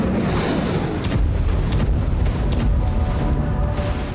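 Dense, continuous rumbling with repeated low booms from aerial bombardment of Kharkiv, Ukraine, during a Russian offensive, loud and unbroken throughout with no voices.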